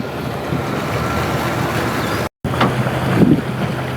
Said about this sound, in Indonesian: mulai start engine dan mulai untuk gaspol. Dia menggunakan 5 engine dari Yamaha.